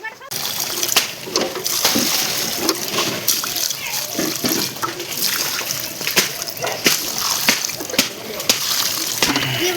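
Water from a bucket is poured directly onto a flooded rice paddy, splashing and sloshing loudly and continuously at close range while someone talks over it.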